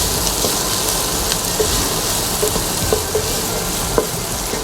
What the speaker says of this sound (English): So the basic idea is to just saute the veggies and not to overcook them